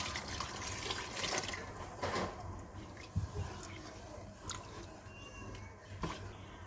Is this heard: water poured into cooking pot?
yes